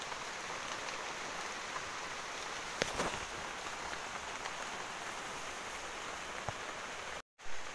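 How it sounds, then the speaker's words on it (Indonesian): Steady rain pours over a coffee plantation while hunting squirrels near a cave mouth, a dense even hiss of drops on leaves and surfaces with a few brief louder patters, continuous and close throughout. "Sambil nunggu hujannya reda kawan"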